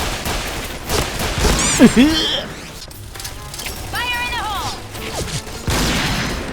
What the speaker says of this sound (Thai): แม่เขายิงกันโหดมากเลย